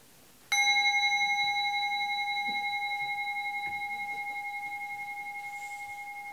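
A mindfulness bell is struck once and sounds a clear, bright tone that hangs in the air and fades slowly over several seconds in a quiet room.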